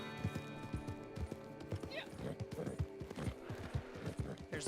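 Horse in the Red Dead Online video game galloping in a steady clip-clop rhythm, with a high neigh partway through, close and fairly loud over mountain ambience while a person talks.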